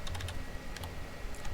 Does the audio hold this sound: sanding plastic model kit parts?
no